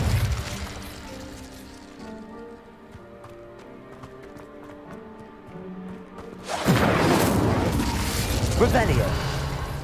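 Incendio fire spell cast in Hogwarts Legacy, a sudden loud whooshing, crackling burst that erupts partway through and roars on to the end, after quieter ambient music with hoof-like clopping.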